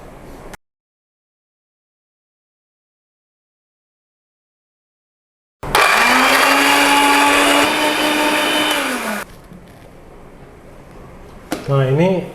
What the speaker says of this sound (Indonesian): ini bawang putih sama jahenya udah kita giling ya